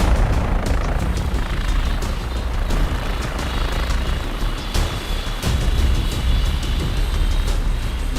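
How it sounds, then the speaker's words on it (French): A SAMU medical helicopter lands on a beach with a loud, steady rotor roar and faint beeping, all close and continuous, with no one speaking. "L'hélicoptère du SAMU peut atterrir, non sans mal."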